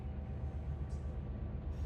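Steady low rumble of a long freight train rolling and gaining speed downhill with train brakes applied, in the Run 8 simulator in Northern California, a dense continuous drone with no talk.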